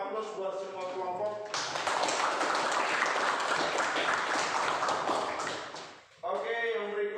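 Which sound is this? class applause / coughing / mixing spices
class applause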